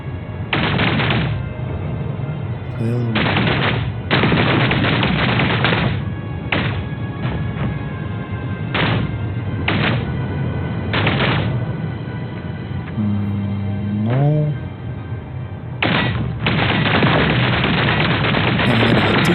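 Weapon blocks fire in Space Engineers 2, loud repeated bursts of gunfire and thuds in uneven clusters with short gaps, close and alone without talk.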